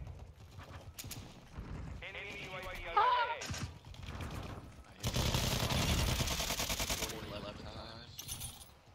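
Gunfire from a gun in a video game, bursts of rapid automatic shots, loudest in a dense barrage midway, mixed with game effects and someone talking over it.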